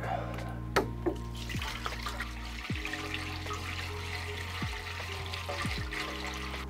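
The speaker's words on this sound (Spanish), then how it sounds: "lo primero que vamos a hacer va a ser rellenarlo de agua" Water glugs steadily from 8-litre jugs into a solar shower tank being filled for a camper van, a continuous close pouring and trickling with a few knocks and clunks of the containers.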